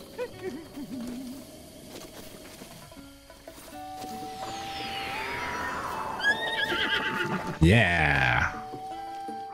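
A horse in Zelda: Breath of the Wild whinnies in a loud, descending neigh, amid game tones and clip-clop of hooves, with someone briefly speaking over it.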